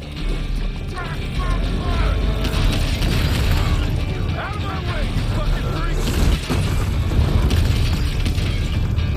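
Explosions from the video game Evil West, a dense, continuous wall of booming blasts with clanking, ratcheting mechanical noise, loud and unbroken for several seconds.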